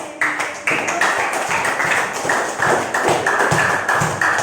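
An audience in a school classroom lesson claps together in a steady, rhythmic run of sharp hand claps that continues for the whole stretch, fairly loud and close.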